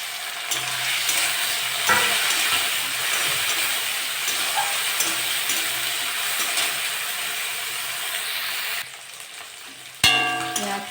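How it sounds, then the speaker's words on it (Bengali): Shrimp and small crabs tossed into hot oil with fried onion and green chillies, sizzling loudly and steadily with occasional stirring clinks, ending with a brief pause and a metallic scrape. "আমি চিংড়ি মাছ আর কামড়াগুলো দিয়ে দেবো"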